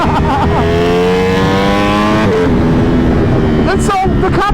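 A Ducati Panigale motorcycle engine, a V4 R or 1199R, revs hard with rising harmonic sweeps, then drops and climbs again in loud, close bursts, with a brief tire-squeal-like edge near the end.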